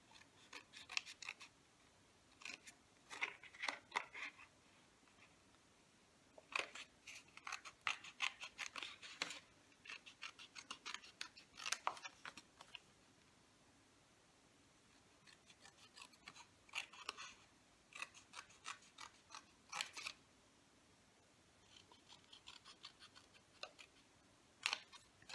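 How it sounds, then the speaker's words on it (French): Scissors snip a T shape out of paper card in bursts of short, crisp cuts, close and quiet, with pauses between runs of snipping. "Donc on va venir couper cette forme de T."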